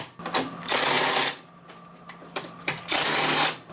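Four 10mm screws come out of a panel on an MTD snowblower, heard as two sustained bursts of power-driver whirring separated by small clicks and handling noises, close and clear.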